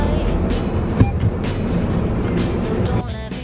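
A car drives off for a learner's driving practice session, its engine and road noise forming a steady interior rumble, with faint talking over it.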